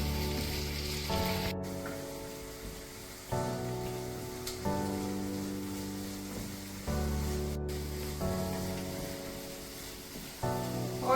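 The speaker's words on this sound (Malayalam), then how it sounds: "ഓൾമോസ്റ്റ് നമ്മുടെ ഉള്ളിയൊക്കെ വഴണ്ടി വന്നിട്ടുണ്ട്" Onions sautéing in oil in a pan for a masala fried turkey recipe, a steady close sizzle and crackle running throughout with no talking.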